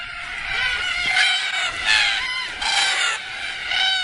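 A flock of cockatoos at an evening watering hole screeches and squawks continuously, harsh overlapping calls rising and falling in a noisy chorus.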